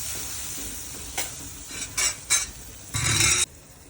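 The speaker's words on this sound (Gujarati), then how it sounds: "હવે આપણે આ મસાલા બધા ચડી ગયા એટલે આપણે આવી 3 વાટકી છાશ રેડી દેવાની." Buttermilk is poured into sizzling spices in a pan while making a Gujarati vaghrelo rotlo dish, giving a low frying crackle broken by a few short bursts of hissing splashes, the last one longer and louder.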